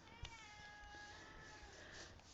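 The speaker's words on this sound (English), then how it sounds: "She's just sitting out there meowing." A cat meows repeatedly at a moderate distance, its drawn-out cries over a steady background hum.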